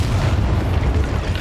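Incendio fire spell burst in Hogwarts Legacy, a loud continuous roaring whoosh of flame with heavy low rumble throughout, no talking over it.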